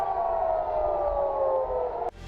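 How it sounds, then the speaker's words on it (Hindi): A wailing civil-defense style air raid siren tied to the Iron Dome air defense system in Israel holds a steady, slowly falling tone, loud and sustained, cutting off abruptly near the end with no voices present. "इसके बाद ये सिस्टम इलाके में एक सायरन बजाता है"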